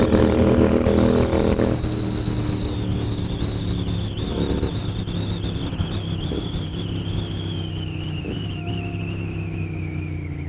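Royal Enfield Continental GT 650 motorcycle with a Watsonian sidecar, a loud steady engine drone heard close while riding, holding a fairly even pitch with slight shifts and wind noise, no talk.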